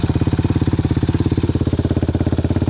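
A quad bike engine idles during a first riding lesson, a steady fast chugging putter that stays close and even throughout, with no talking over it.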